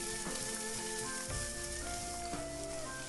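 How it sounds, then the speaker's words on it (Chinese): Minced pork stir-fried in oil with ginger and garlic gives a loud, constant close sizzle, with scraping spatula strokes and the odd clink and tonal squeal from the wok, no voices. "锅中留少许底油，下入10块钱的肉末，翻炒至肉末变白，再把姜蒜末也加进来"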